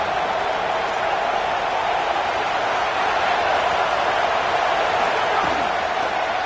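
A stadium crowd roars without letup at an OU vs Notre Dame football game, a dense, even wash of noise that stays loud throughout.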